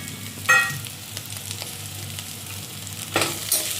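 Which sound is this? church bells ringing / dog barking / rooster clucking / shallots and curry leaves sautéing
shallots and curry leaves sautéing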